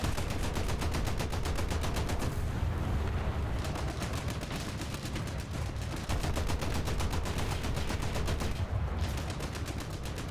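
War Thunder machine-gun fire in a World War battle, a long relentless rapid stream of evenly spaced shots with heavy low rumble, loud and sustained throughout with brief dips, no talking.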